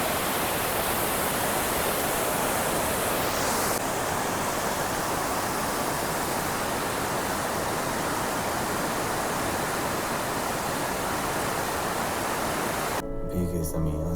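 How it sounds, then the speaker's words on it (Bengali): Powerful rushing water of a large waterfall on the road between Mangan and Lachen, a loud, steady broadband roar that fills the whole stretch before breaking off abruptly at the end. "বিশাল ফলস এটা।"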